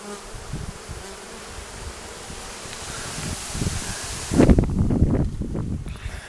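Honeybees buzz in a dense, continuous drone close by, a few passing louder near the microphone amid faint rustling.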